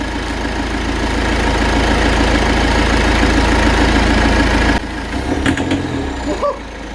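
Citroen Berlingo engine idling with a steady throbbing rhythm while EGR cleaner is sprayed into the intake, then the running turns rough and uneven, dipping and stumbling with a few clicks and sputters.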